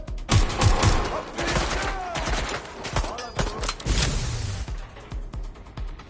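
Dense video-game gunfire in Watch Dogs Legion: rapid overlapping shots and bursts fill the whole stretch, loud and close, with a voice calling out amid the fusillade.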